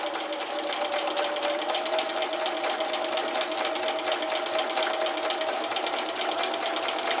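A domestic sewing machine stitching slowly and steadily along the edge of bias binding for a seam finish, running as a continuous even whir with a fine rapid needle rhythm, close and alone throughout.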